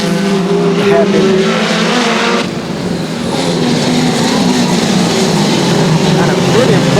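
WTCC touring race cars running side by side at Donington Park, loud continuous engine roar close by with shifting pitch, under a commentator's voice.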